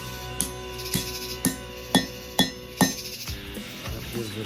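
Blacksmith hammer blows on hot steel worked over the corner of an anvil while bending a split cross, about eight sharp metallic strikes in a steady rhythm, close and ringing, then quieter handling.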